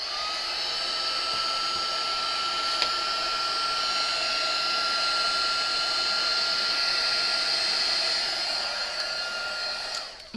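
A heat gun blows steadily on gilding flake powder as it melts into adhesive, giving a loud, even whirring hiss with a constant whine that holds for about ten seconds and then cuts off, with no talking.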